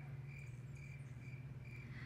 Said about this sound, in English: He could hear the chorus of insects, frogs, and birds around him as night approached.